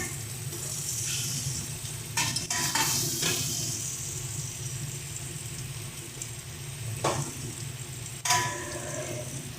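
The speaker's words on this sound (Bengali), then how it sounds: "এবার এর মধ্যে আমরা আগে থেকে ভেজে রাখা পনিরটা দিয়ে দিচ্ছি।" Pre-fried paneer tipped into a sizzling pan for a homestyle vegetarian paneer curry, steady frying hiss with a few sharp spoon scrapes and clangs as it is stirred, close and alone.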